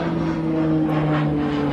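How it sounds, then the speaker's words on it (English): A fixed-wing airplane flies overhead near a Navy airfield used for touch-and-go practice, heard as a steady broadband engine drone with low tonal hum, fairly loud and constant throughout. "And that airplane is just up there."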